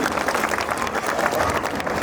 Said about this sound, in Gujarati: માનનીય ડૉક્ટર ભગીરથસિંહ પરમારનું પણ અત્રે આપણે જોરદાર તાળીઓથી સ્વાગત કરીએ.